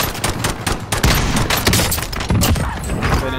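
Loud, rapid bursts of pistol gunfire in a video game, a dense string of sharp shots and impacts crackling continuously with short gaps.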